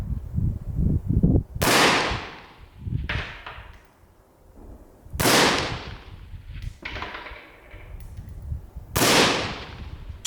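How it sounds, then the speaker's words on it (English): Three loud rifle shots from a Saiga 223, version 30, with a long barrel, fired at a range with a dust cover under test, each a sharp crack with a long echoing decay, spaced a few seconds apart, with faint handling noise between. "First, Dmitry shoots from Saiga 223, version 30, with a long barrel. Fires 3 shots."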